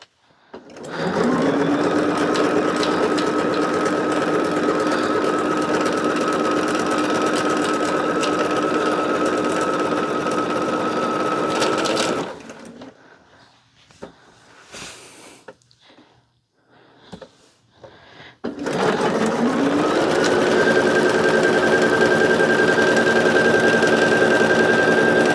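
A sewing machine stitches quilt pieces for a woodland quilt, running steadily for about twelve seconds, pausing amid a few soft handling clicks, then starting again loud and close, with an even motor whine.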